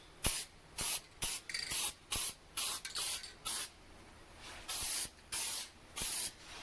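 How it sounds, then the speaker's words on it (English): Short, close bursts of an aerosol spray laying down light coats of coating, about a dozen sharp hissing pulses separated by brief pauses, with no talking. "you just saw me spray that"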